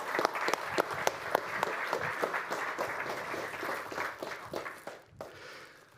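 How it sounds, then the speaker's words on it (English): A conference audience applauds with scattered sharp claps over a dense patter, fading out near the end. "So I think also big applause to Elias."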